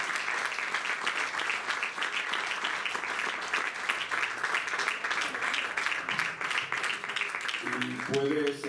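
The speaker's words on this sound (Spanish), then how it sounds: "Den ese aplauso fuerte nuevamente al Padre," Loud, sustained applause from a church congregation in Mexicali, Mexico, continues evenly throughout, with a few voices rising near the end.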